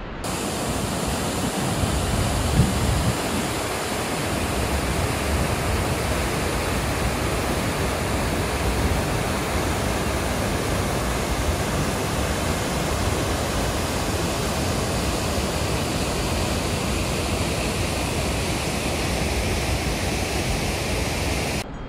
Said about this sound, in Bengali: চারপাশে গোটা উপত্যকা জুড়ে একদম জলের শব্দে, কুলুকুলু জলের শব্দ হচ্ছে।